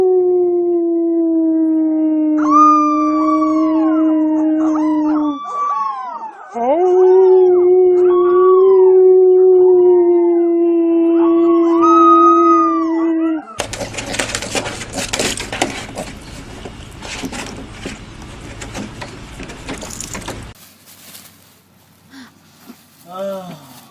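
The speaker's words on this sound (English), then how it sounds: "Oh, that's a good little puppy." A little puppy lets out long, wavering howls, loud and close, for about thirteen seconds, followed by crackly handling and rustling noise.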